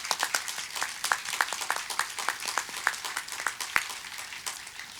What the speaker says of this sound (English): How about a round of applause for Hayley?